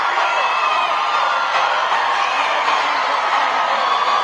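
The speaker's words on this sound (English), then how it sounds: "This is just a lot of screaming." A crowd gathered outside after a court verdict in a murder trial screams and cheers in a steady, dense roar, with whoops rising out of the noise throughout and no single voice standing out.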